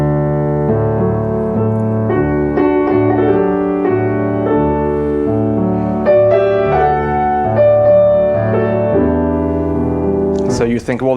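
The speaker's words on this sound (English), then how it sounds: "the Spanish composer Isaac Albeniz wrote a very famous piece, which I'm going to play for you" Isaac Albéniz's Tango played on piano: a gentle, lilting melody over steady low chords, sounding clear and close for about eleven seconds, with a brief noise at the end.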